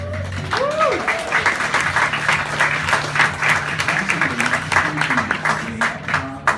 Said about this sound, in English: please give a round of applause for your state and local GovHack crews